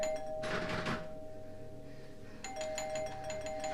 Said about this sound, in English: And then the doorbell.